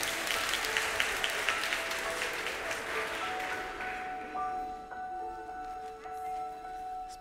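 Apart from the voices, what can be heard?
audience applause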